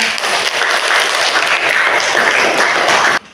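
A crowd at an Indonesian university presentation event claps loudly and steadily for about three seconds, then the applause cuts off abruptly.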